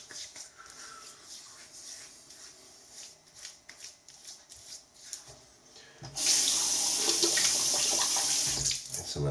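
Tap water runs steadily into a sink as a man rinses shaving lather from his face and beard, a broad close hiss arriving loud and continuous after a stretch of quieter splashing and handling noises.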